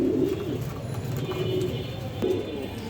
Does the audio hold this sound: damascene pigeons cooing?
yes